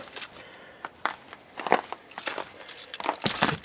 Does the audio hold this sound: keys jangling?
yes